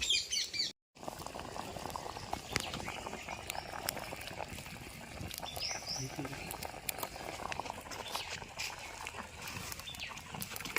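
Country crab soup (rasam) bubbling in a pot, a continuous soft rolling boil with scattered pops and faint birdsong in the background.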